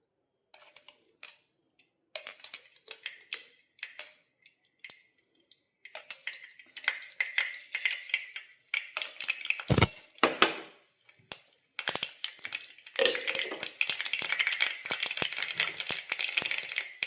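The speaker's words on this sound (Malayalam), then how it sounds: "കടുകൊന്ന് പൊട്ടി വരുമ്പോൾ" Mustard seeds pop and crackle in hot ghee in a pan: sparse, sharp clicks at first, building into steadier spattering and sizzling bursts with short quiet gaps, close and fairly loud.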